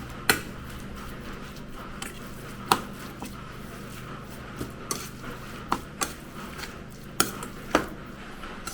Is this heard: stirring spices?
yes